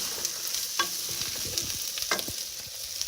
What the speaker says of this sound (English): the potatoes are getting heated very well. We need to saute them also in this oil.